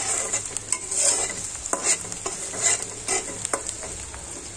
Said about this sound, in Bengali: পেঁয়াজ দিয়ে আমি ভাজতে থাকবো। আমি এখানে সরিষার তেল দিয়ে রান্না করছি